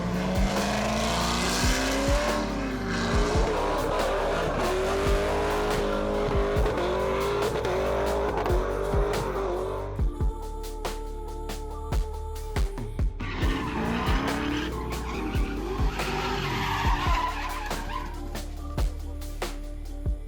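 Car drifting on a drift pad at a car meet, tires squealing in long sustained howls with engine roar, a brief lull midway, then more squealing; dogs bark intermittently in the background.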